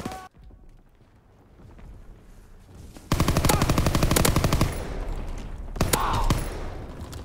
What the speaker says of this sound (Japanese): 困った時は腰打ち、SMG は。